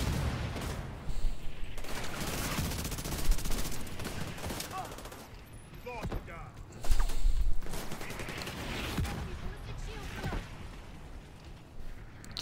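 Mortar blasts and heavy gunfire in the video game The Division 2, dense continuous shooting with repeated loud booming impacts over several seconds, close and intense.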